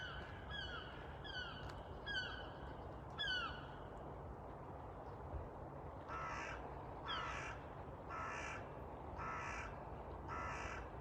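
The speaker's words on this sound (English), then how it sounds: "Nice wildlife sounds going on now, including the noisy gulls." Gulls call repeatedly at a wetland nature reserve in Washington, first in a series of sharp descending cries and then in a run of evenly spaced, harsher calls over soft outdoor ambience.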